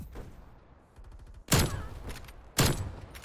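Two sharp, loud gunshots ring out in quick succession in Call of Duty: Black Ops Cold War Search and Destroy, each a booming crack over a low background hum.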